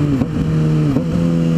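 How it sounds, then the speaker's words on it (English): A motorcycle engine hums steadily at close range during rev-matched downshifts, with two brief blips where the pitch dips and rises again. "5 rev match downshifts right there for you"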